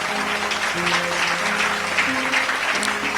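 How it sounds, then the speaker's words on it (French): A congregation applauding in a church service, continuous clapping over sustained organ or keyboard tones, steady and fairly loud. "Est-ce que tu peux encore honorer Dieu par ton acclamation?"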